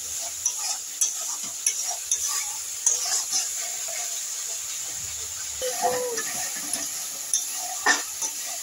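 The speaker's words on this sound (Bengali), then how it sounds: "গ্যাসটা হাই ফ্লেমে করে মশলাটাকে ভালো করে ভাজতে হবে যতক্ষণ না মশলাটা তেলটা ছেড়ে দিচ্ছে" Masala paste frying in oil over a high gas flame, with a steady hiss of sizzling under scattered scrapes and taps as a utensil stirs the pan. Nobody speaks.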